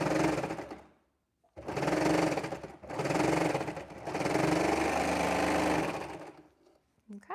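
An overlocker serging chunky fabric with its cutting knife disengaged, running in three loud, steady mechanical bursts separated by short pauses, close by.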